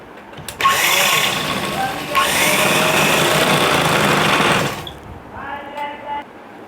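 A sewing machine stitches sofa cover panels together, a loud close whirring run in two long bursts, then a quieter stretch with a voice speaking over faint machine sounds.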